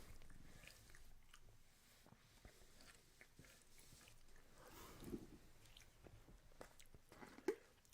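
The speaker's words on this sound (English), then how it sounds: "Just let me finish chewing." A person chews food close to the microphone, giving soft, faint, irregular wet bites and squishy mouth sounds, with a couple of sharper clicks, in an otherwise quiet room.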